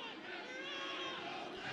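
Crowd at a soccer match at Merlo Field, a dense, continuous murmur of many voices with shouts mixed in, heard from a moderate distance.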